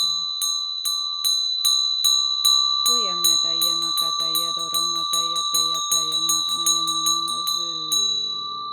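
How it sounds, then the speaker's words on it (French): A small metal bell is struck repeatedly during a spiritual ritual, with clear bright rings at a steady rhythm, joined midway by a lower sustained bell tone layered beneath the strikes. "Désolée, la cloche, je sais que ça fait un peu mal"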